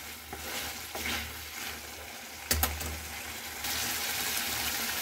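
Chicken with whole spices and whole dried chillies fries in a pan with a steady, close sizzle, a few stirring scrapes partway through, and the hiss rising louder toward the end.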